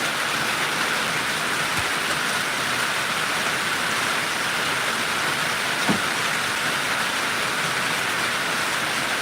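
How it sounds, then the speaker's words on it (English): Steady rain pouring down outdoors, a dense uniform hiss that fills the whole stretch at even loudness, with a couple of faint brief knocks and no voices. "Raining. It's raining."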